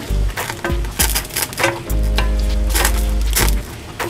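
Chopped sayote simmering in a pan, with steady frying sizzle broken by sharp clattering stirring and utensil knocks throughout, loud and close.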